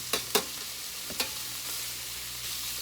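Paella ingredients toast in a little olive oil in the pan, giving a soft, steady sizzle, with a few quick scraping clicks of stirring near the start.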